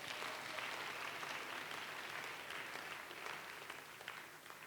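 A church congregation applauds continuously, a dense wash of many hands clapping at a steady level for several seconds, distant and roomy, with no talk over it.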